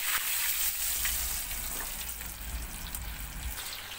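Potatoes frying in oil in a pan over a wood fire give a steady, fairly quiet hiss and crackle of sizzling that holds for the whole few seconds, with no voices.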